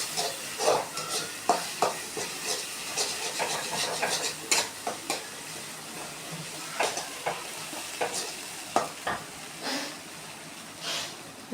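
Mutton brain fry with onions is stirred in a pan, with repeated scraping strokes of a spoon over a steady low sizzle, close and moderately loud.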